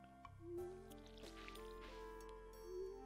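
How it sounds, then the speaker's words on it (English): Crops being watered with a watering can in the farming game Stardew Valley, a soft splashing, dripping pour heard alone over quiet background music. "We'll just water it real quick."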